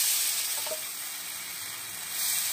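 Batter for Bengali taler patishapta sizzling on a hot pan brushed with white oil, a steady soft hiss with a brief faint scrape, fairly close and alone.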